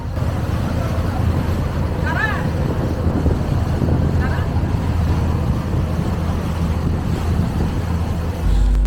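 A crowded passenger launch boat cruising on the river from Dhaka, with a continuous loud engine rumble and water and wind noise throughout, and a voice talking over it.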